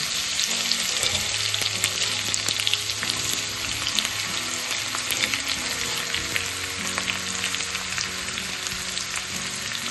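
Crushed cumin and garlic fry in hot oil for a dal tempering, giving a loud, constant, close-up sizzle throughout with faint clinks of stirring and no one speaking.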